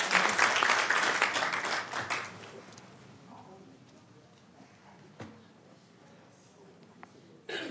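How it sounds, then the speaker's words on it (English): Round of applause at a city council meeting in Sacramento, loud clapping for a couple of seconds that quickly fades to quiet room noise with scattered small sounds. "Give a round of applause."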